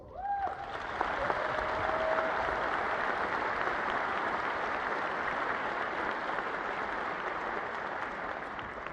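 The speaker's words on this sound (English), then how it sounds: "Please give them a big round of applause" A commencement audience gives a long, steady round of applause for graduates' families, dense and even clapping sustained at a moderate level throughout.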